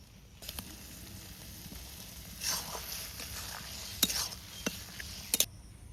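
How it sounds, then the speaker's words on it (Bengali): Fried prawns go into a pan of water lily stem curry, a few sharp clinks and brief scrapes of a utensil over a faint low background hiss. "এখন আমি ভেজে রাখা মাছগুলোকে দিয়ে দেবো"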